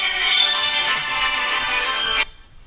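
A mobile phone ringtone rings loudly during a lecture, a bright sustained electronic tone that plays for about two seconds and then cuts off abruptly, leaving quiet room tone.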